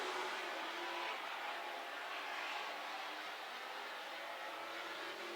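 Super stock race cars roar around a dirt speedway in a heat race, a steady dense engine drone from the pack at a distance with no breaks.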